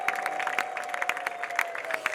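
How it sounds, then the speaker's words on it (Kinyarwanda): A church congregation claps in thanks to God, dense rapid applause from a crowd indoors, fairly near and steady, with a faint high sustained tone running underneath and no distinct ululation standing out. "Ayo ni amashyi n'impundu byo kugushimira"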